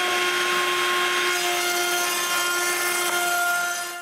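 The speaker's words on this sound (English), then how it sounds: "I begin by surfacing all my oak." Oak boards being surfaced on a power planer or jointer in a woodworking shop, a steady loud machine whine with constant tonal hum and broadband cutting noise throughout, no talk.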